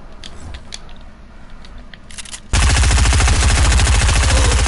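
Rapid automatic gunfire sprays in a first-person shooter video game, bursting in suddenly halfway through as a loud, dense rattle of shots that runs to the end after a quieter stretch of faint clicks and game ambience.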